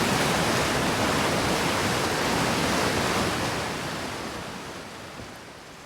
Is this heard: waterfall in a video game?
yes